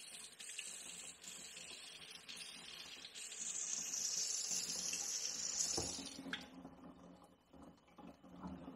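A tap runs steadily over an Xflyee 1000-lumen LED headlamp held under the stream, a constant loud splashing wash that shifts in tone as the lamp moves, then cuts to a softer trickle.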